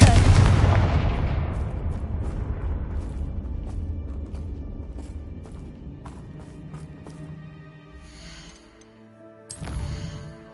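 A Confringo blasting spell explodes in Hogwarts Legacy, opening with one heavy booming blast that rumbles and slowly decays, followed by lighter clinks and a softer thump near the end.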